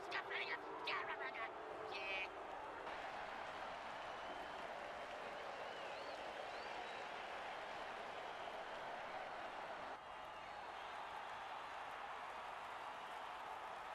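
Crowd cheering and applause after a hit in an American football game run as a steady distant roar for the whole stretch, with a voice talking briefly at the start.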